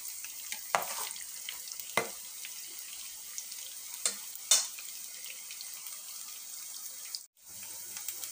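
Jackfruit chillies frying in a pan give a constant soft sizzle, broken by a few sharp clatters of stirring and a short dropout near the end, with no talking.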